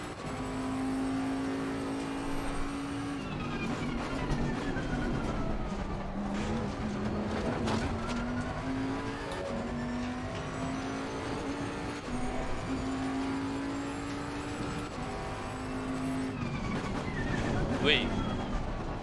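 Lamborghini Huracan Evo 2 race car engine in Assetto Corsa Competizione, a steady loud drone that shifts pitch as it revs through gears and accelerates, running continuously with a brief sharper burst near the end.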